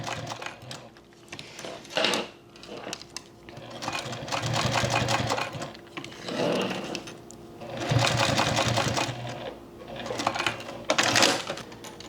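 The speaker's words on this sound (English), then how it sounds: "And then we sew." A sewing machine stitches a strap for a crossbody or shoulder bag, running in several close bursts of steady rapid needle chatter with brief slowdowns and pauses between runs.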